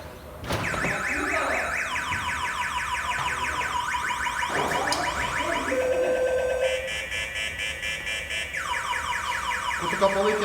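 A loud motorcycle alarm on a Mondial SFC 100 Snappy cycles rapidly through warbling, whooping and chirping siren patterns, switching tones every few seconds.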